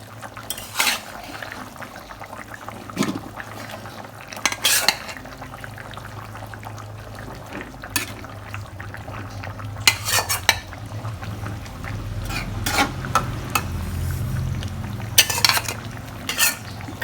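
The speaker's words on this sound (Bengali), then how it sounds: "এখন এই যে মাছ দিয়ে দিচ্ছি।" Hilsa fish going into a pot of tender bottle gourd curry, with scattered clinks of utensils against the pot, stirring and a steady low simmering hiss beneath, close and moderately loud without talk.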